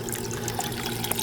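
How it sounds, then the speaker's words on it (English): A pump pushes vinegar through a tube into a tankless water heater and back, giving a continuous close-up watery churn and trickle under a low steady hum. "Our pump is pumping the vinegar straight up this blue tube into our heater"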